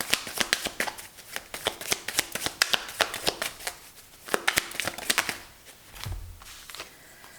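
A deck of tarot cards is riffled and shuffled close up in rapid, crisp flutters and snaps, with a short pause midway before more shuffling. Brief low thumps follow near the end.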